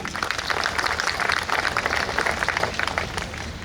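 An audience at a Kannada-language Hindu religious and political speech claps together in a steady, dense patter of many hands, fairly close and sustained for a few seconds with no voices over it.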